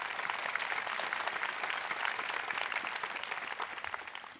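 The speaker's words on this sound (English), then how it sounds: "Y'all please give them a round of applause." An audience at the 2013 North Carolina gubernatorial inaugural ceremony gives a sustained round of applause, crisp individual claps blending into a steady wash that tapers slightly at the end.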